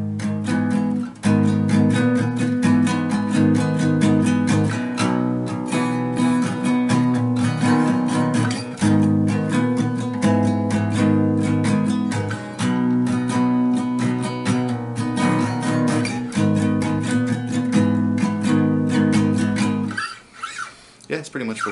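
Guitar plays the intro part of a song, a steady, dense and loud strummed pattern that repeats throughout, with a short thinner break near the end.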